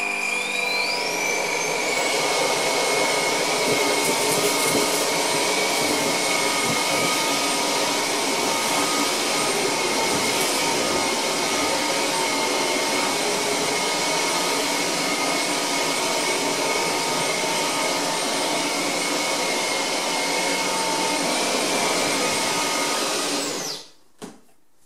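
A Rowenta Rockstar 900 Ultimate Ergowet vacuum cleaner runs at maximum power, a loud steady whining roar that holds for about twenty-four seconds before cutting off abruptly.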